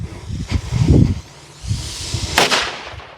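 Black Market Cracker firecrackers from Sun's Fireworks go off outdoors near a river: a crackling burst of sharp pops, a few smaller bangs, then one loud bright crack that echoes away.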